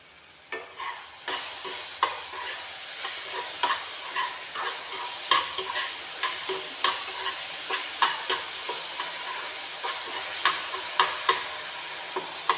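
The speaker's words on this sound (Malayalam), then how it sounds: "ഇനി അതിലേക്കൊരു 4 ഏലക്ക പൊടിച്ചതും ഒരു 3 ടീസ്പൂൺ പഞ്ചസാരയും കൂടി ഇട്ടിട്ട് നല്ല ഒന്ന് ഇളക്കി കൊടുക്കുക." Sautéed banana with crushed cardamom and sugar is stirred in a pan, a low sizzle under repeated distinct spoon scrapes and taps coming in a steady rhythm, close up, with no voices.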